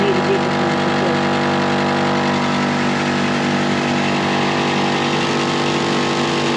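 An air compressor runs alongside a car engine idling, a steady dense mechanical drone with a low hum that holds constant throughout without a break.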